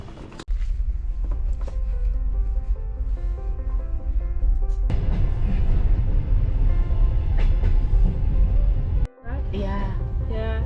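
A moving overnight train to Yerevan rumbles steadily with a low, continuous drone and rattling carriage noise, briefly cutting out near the end before resuming.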